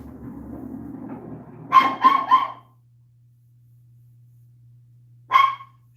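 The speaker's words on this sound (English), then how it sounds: "dogs almost talked me out of that shot" Dogs bark indoors near a pool table, a quick burst of three sharp barks followed after a pause by a single bark, over a low steady hum.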